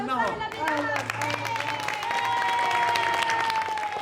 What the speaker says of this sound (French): Tout le monde l'applaudit bien fort.